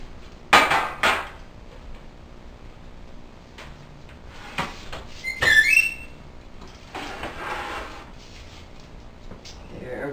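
A lasagna dish going into a kitchen oven, with a few clattering clanks and knocks of cookware and rack, a metallic squeak near the middle, and some quieter handling noises.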